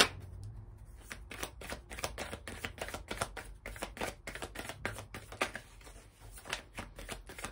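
A deck of oracle cards is shuffled by hand in quick repeated riffles and slaps, a crisp close rhythm of papery flicks running for several seconds in a quiet room without speech.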